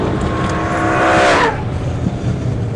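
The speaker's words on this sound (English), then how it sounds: "I've got massive wheel spin in second gear, so let's just see where we go." A Nissan R35 GT-R accelerates hard in second gear with heavy wheel spin, its loud engine note climbing alongside a rising tire squeal that peaks and then drops away as the revs fall, all close and loud without speech.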